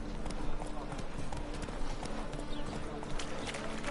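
The horse Roach gallops in The Witcher 3, hooves clip-clopping in a fast steady rhythm close by under a dense game soundscape, with a voice speaking over it.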